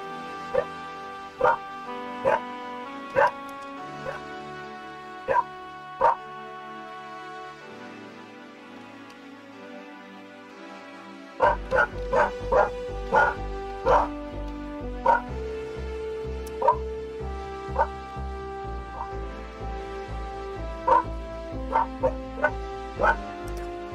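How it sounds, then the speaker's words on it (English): A dog barks at rabbits repeatedly in short sharp yips, some quiet stretches between bursts, with music playing in the background throughout. "Barking at the rabbits."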